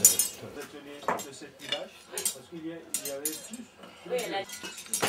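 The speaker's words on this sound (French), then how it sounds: "Le verrier remue la masse de verre régulièrement avec une barre de fer et un crochet." In a Nazarköy glass workshop, a glassmaker stirs molten glass with an iron bar and hook, making steady metallic clinks, scrapes and rattles while people talk over the work.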